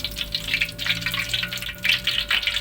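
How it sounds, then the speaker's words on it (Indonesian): Food for a balado dish fries in hot oil, a close, lively sizzle with bursts of crackling and bubbling that rise and fall, no voices. "Dan kita akan lanjut menggoreng sisanya ya teman-teman."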